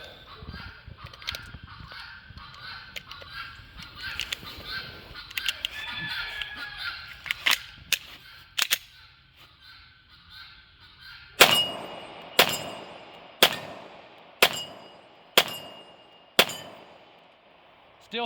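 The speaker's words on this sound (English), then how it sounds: "One more firing test." Pistol shots ring out during a firing test of a micro red dot sight: five or six sharp, loud reports evenly spaced about a second apart, following quieter handling clicks and metallic clanks.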